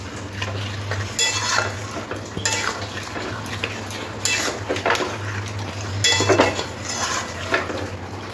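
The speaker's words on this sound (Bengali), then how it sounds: "টক দইটাও চিকেনের সাথে খুব ভালো করে মিশিয়ে নিতে হবে।" A metal spoon stirs and scrapes through chicken and yogurt in a pan for a dhaba-style chicken curry, giving repeated close clinks and scrapes over a steady low hum.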